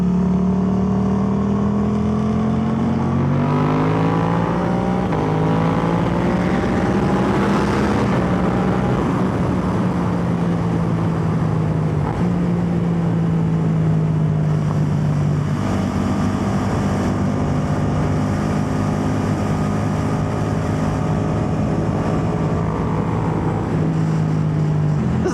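A Suzuki GSX-8R motorcycle heard while riding, the engine droning loud and continuous with pitch rising and falling as revs shift, under steady wind rush.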